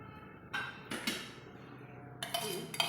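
A small bowl clinks and scrapes as oil is spread around its inside while preparing steamed egg, producing a few light, distinct ceramic knocks and rattles against a quiet background.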